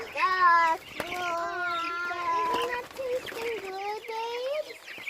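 Several chickens cluck and squawk nearby on a farm in excited, overlapping calls, with a few sharp clicks mixed in.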